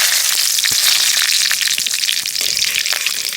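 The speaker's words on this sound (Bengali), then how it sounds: "কড়াই গরম হয়ে গেছে এবার সর্ষের তেল দিয়ে দিচ্ছি এবার দিয়ে দেবো ফোড়ন ফোড়নে দিচ্ছি তেজপাতা শুকনো লঙ্কা গোটা গরম মশলা গোটা জিরে" Bay leaves, dried red chillies, whole garam masala and cumin seeds sizzle in hot mustard oil in a wok, a loud, dense, continuous crackling fry with scattered sharp pops and no voices.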